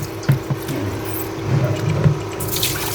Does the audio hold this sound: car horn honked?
no